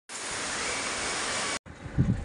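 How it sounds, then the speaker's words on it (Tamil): Steady broadband rush of flowing water somewhere near a small waterfall at Chinna Suruli, continuous and fairly loud with no voices, breaking briefly before a softer, closer stretch with low knocks. "இங்கே தான் எங்கேயோ தண்ணி சத்தம் கேட்குது"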